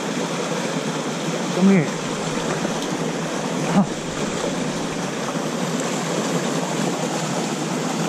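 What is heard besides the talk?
huge waterfall pouring into a pool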